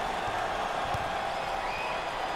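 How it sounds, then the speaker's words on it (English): Sellout arena crowd at a first-round NCAA basketball tournament game between Sam Houston State and VCU roars and applauds in a dense, continuous wash of noise with faint voices mixed in. "And Dick, look at this sellout crowd, and they are loving it."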